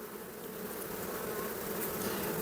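Honey bees buzzing on a hive frame in an apiary, a dense, steady, fairly quiet hum filling the whole clip with no talk.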